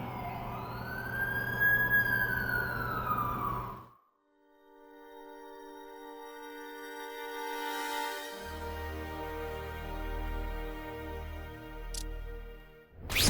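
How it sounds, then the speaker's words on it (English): An ambulance siren wails in The Amazing Spider-Man 2 video game, a loud rising and falling tone that cuts off abruptly. A steady tonal hum and game music follow. "That's the ambulance I called."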